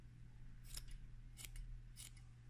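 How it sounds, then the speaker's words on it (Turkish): Scissors snip at a thick yarn pompom in three quiet, evenly spaced cuts over a faint steady background hum. "Bunu da zaten makasınızla şekil verip düzeltebilirsiniz."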